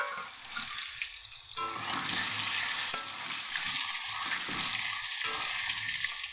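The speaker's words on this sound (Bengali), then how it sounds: "আলুগুলো লাল লাল করে ভাজবো মাংস।" Potatoes for a chicken curry frying in hot oil, a steady loud sizzle that runs throughout, with brief clinks of stirring over it.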